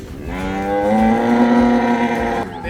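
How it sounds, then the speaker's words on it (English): Cattle being mustered at Mt Perry, Queensland let out a long, loud, close moo that swells and holds steady before breaking off, with no voices over it. "The cattle pissed off there."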